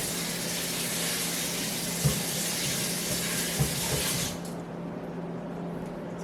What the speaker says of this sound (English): I'm going to just add some water on this